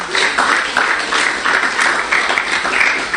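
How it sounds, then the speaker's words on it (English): A crowd at a book launch gives steady, dense applause, many hands clapping together at full, close volume with no break for the whole stretch. "Round of applause for them."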